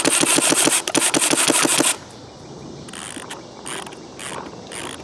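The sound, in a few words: winding a mechanical battery-free paintball hopper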